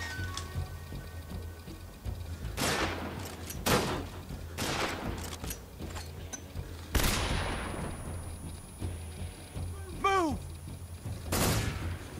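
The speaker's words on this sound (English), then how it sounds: "What are they shooting at?" Gunfire in the stealth video game Metal Gear Solid 3: Snake Eater, several loud separate bursts of shots echoing at irregular intervals over a low ambient hum, with a brief bird-like chirp in between.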